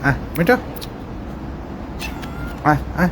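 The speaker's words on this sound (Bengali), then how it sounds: "এটা আমার বিড়াল" A pet cat meows in a few short calls, near and clear, spread across the moment, while a person speaks briefly nearby.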